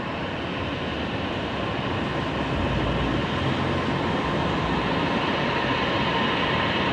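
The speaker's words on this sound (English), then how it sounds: "There's Emirates on the move." An Emirates airliner taxis at night at Brisbane Airport, giving a continuous broadband jet rumble that swells slightly and stays loud and steady throughout, with no talk.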